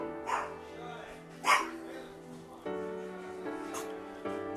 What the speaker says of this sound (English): sorry, dogs are yelling